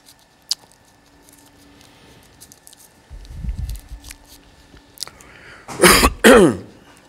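A faint click and low rumble, then a harsh throat clearing followed by two strong coughs close to the mic.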